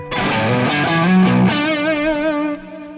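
Electric guitar lead tone played through a JHS pedal into an amp's clean channel, a loud sustained melodic phrase with bent notes and vibrato that holds a long note before cutting off, with no talking.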